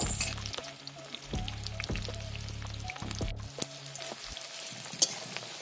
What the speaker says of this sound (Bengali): তেলটা গরম হয়ে গেলে এর মধ্যে তেজপাতা আর পেঁয়াজ কুচানো দিয়ে দেবো।